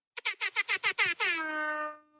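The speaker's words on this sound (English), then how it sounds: "Every time you hear the air horn, we call it a hot take" An air horn blares in a rapid string of short honks, then holds one long, loud blast that fades out.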